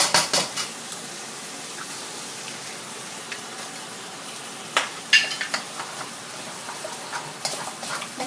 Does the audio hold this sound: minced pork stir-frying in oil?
yes